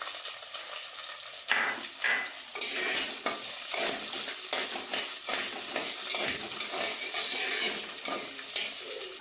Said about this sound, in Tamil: நம்ம உப்பு போட்டு நல்லா வதக்குங்க.